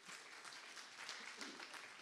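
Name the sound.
congregation applause in church service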